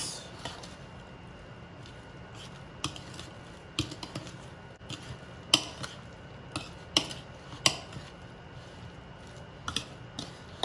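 Coleslaw-style salad tossed in a bowl: an irregular patter of light clicks and scrapes from utensils against the bowl, close and moderately loud, with no voices.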